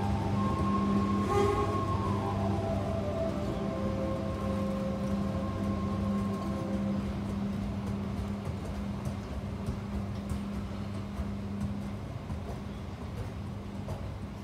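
The Tegal Bahari passenger train with executive carriages rumbles into an Indonesian station, its horn sounding a sustained chord early on before fading into a steady rolling clatter of wheels and carriages.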